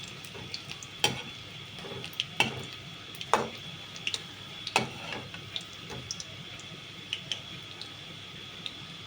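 Fish egg fritters sizzling and being flipped in a frying pan, a soft steady fry under a series of sharp utensil taps and scrapes spaced every second or so, close and fairly quiet.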